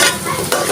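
Leafy greens (lakshmi shaak) stir-fried in hot oil with ginger and dried red chilli, a short burst of sizzling and spatula scraping in a pan, close and steady with no voices.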